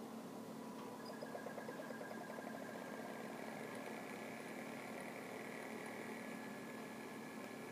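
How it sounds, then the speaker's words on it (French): A DC motor driven by an IBT-2 PWM driver from an Arduino spins up in the reverse direction, giving a steady tonal whine with a constant hum underneath that holds throughout at moderate level. "on va entendre le moteur, puis on va voir que ça part."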